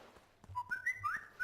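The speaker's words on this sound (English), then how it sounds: "Oh, my phone whistle." A phone whistle notification in the Hide & Holdout H2O video game: a few bright, rising and falling whistled notes in quick succession, clear and alone.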